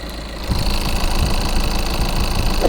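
A Tata Sierra 1.5 litre Kryojet four-cylinder diesel engine idles, a steady close rumble with a faint rhythmic clatter that sets in after a brief start and holds evenly to the end.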